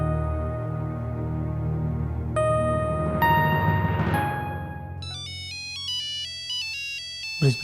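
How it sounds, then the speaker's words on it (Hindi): A phone ringtone plays a tonal melody, loud and close, rising in layers and then shifting to a brighter repeating chime pattern. "ब्रिज बिहारी का फोन।"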